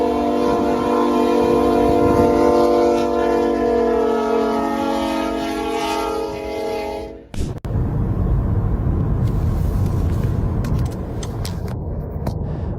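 A train passes without stopping, its loud sustained multi-tone horn blaring for several seconds before cutting off abruptly into the heavy rushing roar of cars speeding by close up.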